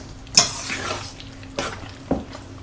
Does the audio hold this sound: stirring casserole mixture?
yes